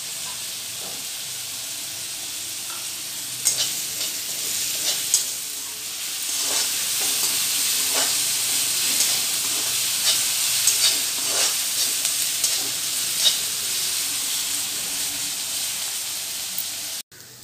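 Chopped onions fry in a pan for pawta usal, a steady bright sizzle and hiss running throughout with occasional stirring scrapes and pops, close and continuous until it stops abruptly at the end.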